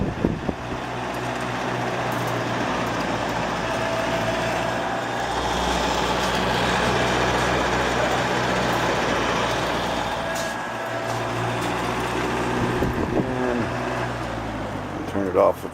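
A circa 1959 Frigid 20-inch oscillating box fan running on low speed gives off a steady, full whooshing drone with a low hum, holding level throughout at close range, while a voice speaks over it at times.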